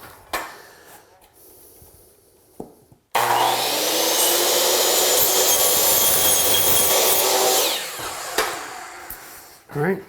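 Saw cutting through lightweight crown molding in one loud, continuous pass of about five seconds, with quieter handling clicks and knocks before and after.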